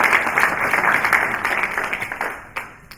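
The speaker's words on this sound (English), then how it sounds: "If you'd like to just give them a round of applause." An audience at an Africa summit panel session claps for the panelists, a brief burst of applause that fades over three seconds with a last few scattered claps.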